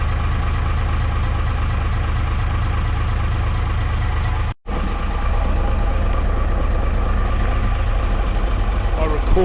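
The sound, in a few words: old motor idling at around 400 RPM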